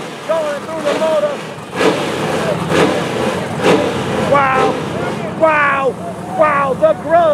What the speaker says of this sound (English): Sky high nitrous burn going through the motor.